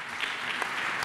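Audience applause at a housing and regional development awards ceremony in France, a brief, steady wash of many hands clapping at moderate level with no voices over it.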